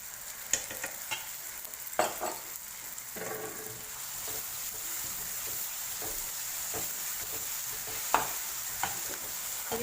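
Tomatoes frying with turmeric for pithala fry, a steady sizzle punctuated by repeated scraping and knocking strokes of a spoon against the pan.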